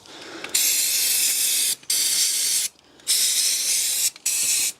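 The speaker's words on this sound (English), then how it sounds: "we'll just give the general area a bit of a clean down with some brake cleaner" Brake cleaner sprayed over the engine area of a Mini Cooper N14/N18 after an oil change, four close, loud hissing bursts separated by short pauses.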